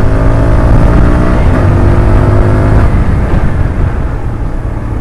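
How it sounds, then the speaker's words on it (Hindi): A TVS Apache 160 4V motorcycle accelerates hard in sports mode, its engine note loud and close, climbing through gears with a rising harmonic whine that eases slightly near the end. "स्पोर्ट्स मोड पे अभी तो भाग रही है बाइक"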